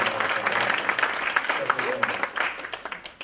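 An awards-event audience gives a round of applause for the AlignLife at Simpsonville team; crowd clapping mixes with voices and cheering, then thins out into a few scattered claps.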